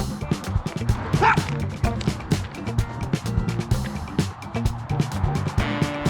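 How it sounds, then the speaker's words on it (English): A dog barks repeatedly outdoors beside a runner on a road, yappy bursts over a steady, busy background with traffic and faint voices. "You're a funny looking dog."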